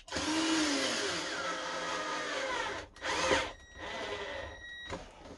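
A power drill drives large, bulky 6x6 screws into the plinth of a Tannoy Monitor Gold loudspeaker cabinet, a close, loud whirring run with brief pauses and a short final burst.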